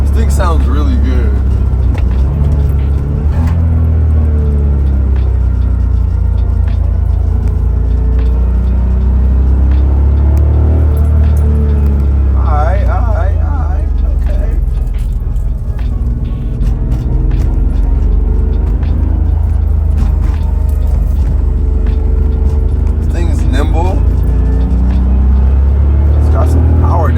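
Car engine droning while driving on winding canyon roads, a steady close low rumble that swells with gear changes and acceleration, with people talking over it at times.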